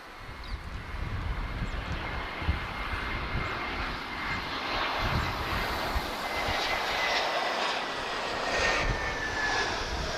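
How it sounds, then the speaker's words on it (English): A Ryanair Boeing 737 Max 8 operated by Malta Air roars with sustained jet engine noise at Lisbon Airport, a loud continuous rumble with gently shifting tone and light wind buffeting. "This is Ryanair, operated by Malta Air. She's off to Milan."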